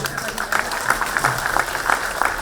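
Audience applause at an Onam 2013 community gathering in Swindon, a steady patter of clapping with a low hum beneath.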